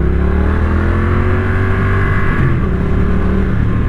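A Triumph Street Twin twin-cylinder motorcycle engine revs loud and close, holding a steady throaty drone that dips and shifts pitch partway through, with no talk.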